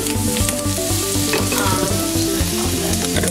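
Summer squash and tofu stir-fry in a pan, a loud, close, continuous sizzle with crackling splatters and stirring scrapes, and no voices.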